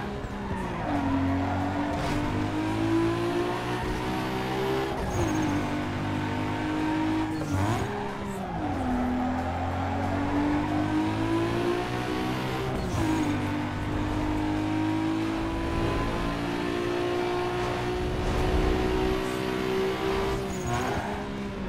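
Race car engine in Need for Speed Underground 2 holding a steady high drone that rises and dips with gear shifts, with intermittent tire squeal, continuous and loud throughout.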